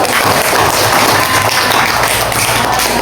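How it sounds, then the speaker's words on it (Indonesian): Loud, dense clapping from a classroom or workshop audience for a group about to present, sustained evenly with no pause. "tepuk tangan dulu"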